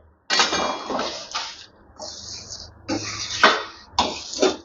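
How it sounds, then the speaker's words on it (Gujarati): Roasted sesame seeds being stirred into hot jaggery syrup in a pan, heard as several close, gritty scraping bursts separated by short pauses. "આપણે શેકી રાખેલા તલ છે ને એ ઉમેરી દેશું અને તરત જ સારી રીતે મિક્સ કરી લેશું."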